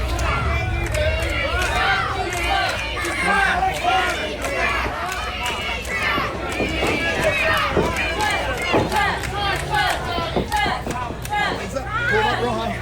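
Dense crowd noise at a professional wrestling event fills the whole stretch: steady chatter, shouts and cheers, with sharp thuds and slaps from the ring breaking through.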